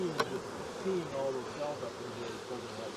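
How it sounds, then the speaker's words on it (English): Bees swarm around an open hive during a queen-rearing workshop, giving a steady, dense buzzing hum close by, with a faint voice murmuring under it. "Bees everywhere."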